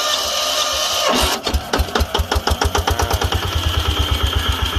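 An old Japanese Yanmar 16 hp diesel engine cranks with a whirring rush, then catches and settles into a loud, rapid, regular thumping idle close by.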